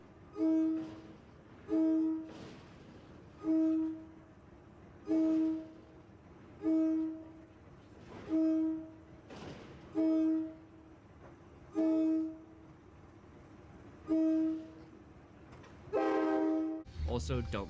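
A train horn blasts repeatedly in short, evenly spaced honks, about ten in a row, ending with a longer, louder blast.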